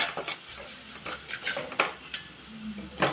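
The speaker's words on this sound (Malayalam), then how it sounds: "എന്നിട്ട് അതിൻ്റെ ആ പച്ചക്കൂട്ട് മാറുന്ന വരെ നമുക്കൊന്ന് വഴറ്റി കൊടുക്കാം" Ingredients being sautéed and stirred in a pan for a koozhappa thoran, with intermittent scraping and clinking of a utensil against the pan over a soft sizzle, close and moderately loud.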